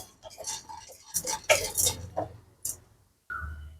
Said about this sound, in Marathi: फुटाण्याची डाळ अगदी हलवून घ्यायचे 2 मिनिटवर।